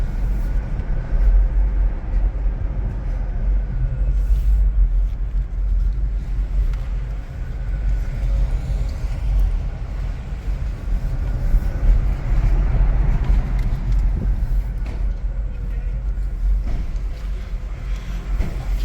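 A Ford Mach-E Select RWD electric car drives along with a low, steady road rumble, suspension thumps and a brief brake sound, heard from inside the cabin with no talking.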